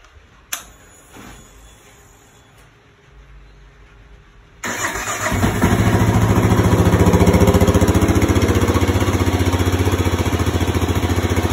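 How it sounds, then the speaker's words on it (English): A third-generation Kawasaki KLR 650 motorcycle with the standard exhaust clicks and cranks, then fires up and settles into a loud, steady thumping idle close by. "KLR 650 standard exhaust."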